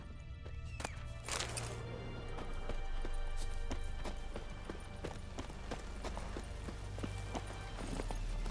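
Roach, Geralt's horse in The Witcher 3, gallops steadily with rapid rhythmic hoof clip-clops, close and continuous over a low ambient game background.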